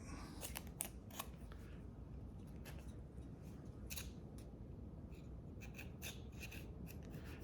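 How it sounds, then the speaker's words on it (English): Carbon deposits are scraped off the pistons of a Ford 302 V8 engine during a budget rebuild: faint, close, repeated rasping scrape strokes in an uneven rhythm over a quiet hiss, with no talking. "Just scrape away any carbon that could be on there."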